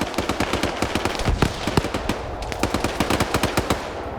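Rapid automatic rifle fire in a military video game battle set in a Gulf War-era Fallujah operation, crackling in quick, steady bursts with a short lull, loud and continuous throughout.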